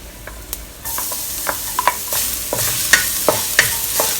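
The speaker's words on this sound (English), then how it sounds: "When the oil is hot, we'll add in 5 grams of ginger, young ginger, sliced thinly like this." Thinly sliced young ginger and chopped garlic fry in hot oil for a Chinese scallop and asparagus stir-fry: a bright, close sizzle with repeated spatula scrapes and knocks against the wok, and no voices.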